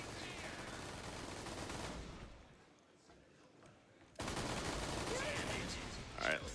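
Gunfire in the video game Borderlands 2 during a speedrun, dense rapid bursts that drop to a lull midway and then return loudly, with sharp cracks near the end.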